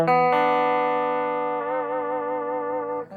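Stratocaster guitar with a Mark Speer signature pickup, played clean with slight breakup: a single strummed chord rings out loud and sustains for about three seconds with faint warble before a brief new attack.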